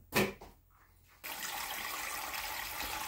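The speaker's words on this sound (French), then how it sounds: "Et on va commencer à mettre l'eau" Cold water pouring from a tap into a pot for potato pâté, a steady broadband rush starting after a brief clatter and a short pause, close and continuous.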